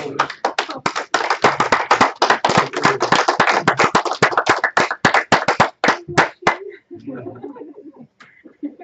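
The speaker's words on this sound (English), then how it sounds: "Could we all stand and give her a round of applause?" A standing audience at a local Toastmasters speech contest claps in crisp, distinct individual hand claps, loud and close, for about six seconds before tapering off into murmuring voices.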